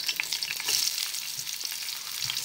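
Onion and carrot fry in a pan with a steady, close sizzle and crackle, a bright hiss holding even throughout with small pops and no voices.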